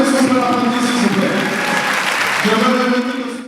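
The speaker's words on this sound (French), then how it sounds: "Est-ce qu'on peut l'applaudir" Applause from an audience at a women's leadership tour event in Pointe-Noire, steady crowd clapping throughout with voices and cheering mixed in, fading out at the end.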